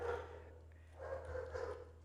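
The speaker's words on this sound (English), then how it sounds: "my dog is barking a lot" A dog barks a few times indoors, muffled and moderately distant, in short bursts across a couple of seconds.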